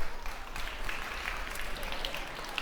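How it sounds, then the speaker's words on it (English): Audience applause at a business conference on circular economy as a speaker is welcomed onto the stage, a moderate, steady wash of clapping heard at some distance with no talk. "Warm welcome and big applause."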